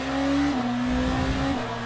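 A hypercar engine in the Le Mans Ultimate racing game, a BMW or Toyota, drones loud and close, holding a steady high whine with slight pitch shifts and no talking.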